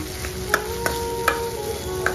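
Food frying in a pan, a continuous sizzle close by, broken by a few sharp scraping clicks of a utensil stirring at roughly half-second intervals.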